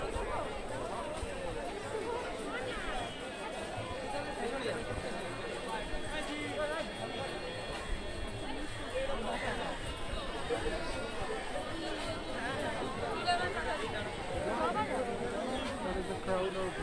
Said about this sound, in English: There is a crowd out here.